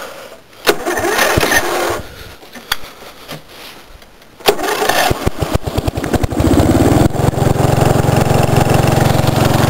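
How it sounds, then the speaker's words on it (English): A racing lawn mower cold starts after a slow, weak-battery crank: sluggish starter cranking with pauses, then the small engine catches and settles into a loud, steady, close idle. "I'm going to turn the key on."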